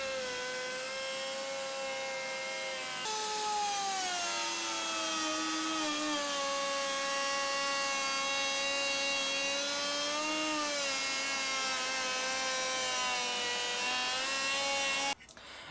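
Router cutting a channel into a wooden board clamped on an old bench, a loud continuous high-pitched whine with slight pitch dips as the bit bites, stopping abruptly at the end.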